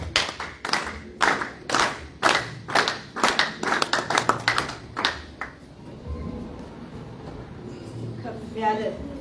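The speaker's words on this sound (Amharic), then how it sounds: "በጭብጨባ እንቀበላለን።" A church congregation claps in rhythmic bursts of hand claps for roughly the first five seconds, then the clapping fades into a low room murmur with some background voices.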